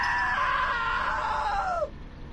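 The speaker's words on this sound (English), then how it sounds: "Now that was a great scream." A long, shrill scream from a character in the video game What Remains of Edith Finch, holding steady for almost two seconds before sliding downward and cutting off abruptly.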